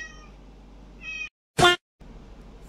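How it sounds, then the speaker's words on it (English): A hungry house cat meows twice up close, short drawn-out cries with a brief loud burst between them. "I have a cat and he's hungry right now, so that's why he's meowing."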